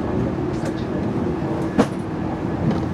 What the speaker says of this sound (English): this is the top deck of a double decker train